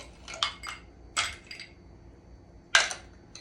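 Ice cubes dropped into a cocktail glass for an Old Fashioned, three separate bright clinks spaced apart, close and fairly quiet.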